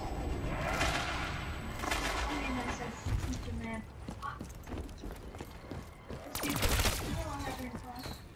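Tommy gun firing in Black Ops 3 zombies on the Origins map, rapid bursts of automatic fire with a loud, dense burst near the end, mixed with game effects and voices talking over it.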